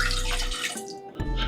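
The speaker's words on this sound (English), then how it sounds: "You're going to add 1 cup of water." Water splashes into a pickling jar as a cup is poured in for quick-pickled red onions, a steady loud gush for about half a second, then a brief lull and a second splash of liquid.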